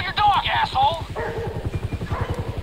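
A dog barks a few times in Grand Theft Auto 5 over a steady rhythmic clopping, with voices talking throughout.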